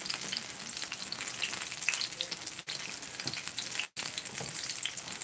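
Saltfish fritters of flour, baking powder, scallion, onion and thyme fry in hot oil, a steady dense crackling sizzle with tiny pops throughout, close and even, briefly dipping twice.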